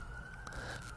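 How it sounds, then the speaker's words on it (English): An ambulance siren wails in a single steady rising tone, faint and distant at first, then a sudden loud burst at the very end. "Oh, yes, that's an ambulance."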